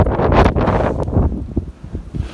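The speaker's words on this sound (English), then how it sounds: "There's a lot of snow again, it's blowing." Blizzard wind blowing snow through New York City buffets the microphone in rough, gusty rushes, loud at first and easing slightly toward the end, with no voices.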